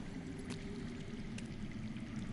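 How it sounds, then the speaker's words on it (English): Faint, steady rush of underground running water in a video game, a low continuous trickle and flow with no voices, heard quietly from a distance. "That's water. I hear water. From underground."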